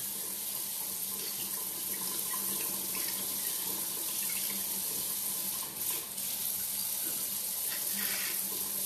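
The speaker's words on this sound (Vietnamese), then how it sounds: "Khi mà em rửa mặt đó thì em sẽ dùng cái nước nè, em massage, em vừa massage vừa rửa" Tap water runs steadily into a sink while a face is washed and massaged, a continuous close splashing flow with slight shifts as hands move through the stream.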